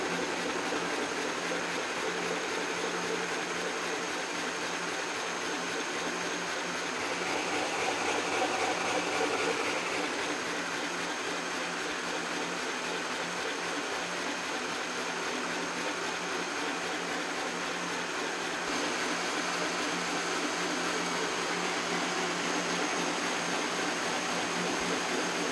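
A machine cuts metal for new swivel jaws on an Emmert 6A toolmaker's vise, making a steady, even whirring and rushing noise as the part feeds through, constant and fairly close for the whole stretch with no talking.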